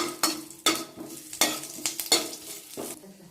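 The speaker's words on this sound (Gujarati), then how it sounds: "હવે અડધી મિનિટ માટે આ કરી પત્તાને આદુને પકાવશું" Curry leaves and ginger frying in hot oil in a pan with a soft sizzle, while a spoon strikes and scrapes the pan in sharp irregular knocks, close and fairly loud.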